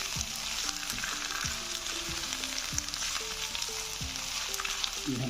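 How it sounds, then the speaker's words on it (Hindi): Tinda (apple gourd) frying in oil in a pan, a dense continuous sizzle with occasional soft stirring knocks underneath, near and steady without speech. "अच्छी तरह ऑयल में ये फ्राई हो जाए"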